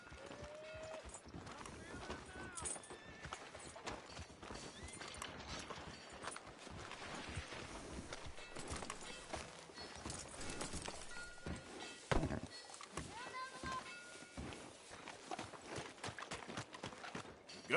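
Horse hooves clip-clop steadily in a PS4 video game street scene, a close rhythmic trotting that runs throughout beneath people talking, with a sharper thump partway through.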